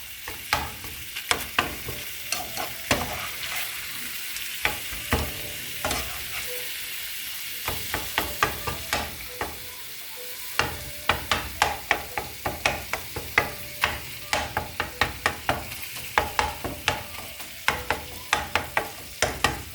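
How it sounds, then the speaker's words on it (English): Ground beef browning with fideo noodles in a frying pan over high heat, a steady sizzle broken by frequent sharp scraping and clacking stirring strokes, close and fairly loud. "Start browning my meat"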